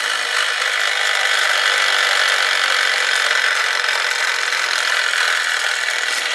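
A toy car's friction motor gives a continuous high-pitched whirring buzz that runs steadily without pause, like a small motor spinning at constant speed.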